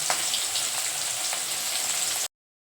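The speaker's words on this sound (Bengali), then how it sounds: "এখানে মাছ ভাজা চলছে" Fish fries in an old, thin-bottomed pan with a close, steady sizzle and a few faint clicks, then the sound stops abruptly near the end.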